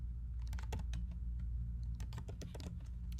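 Typing on a computer keyboard while testing a software setup, a close run of crisp, irregular key clicks in quick bursts with no voices.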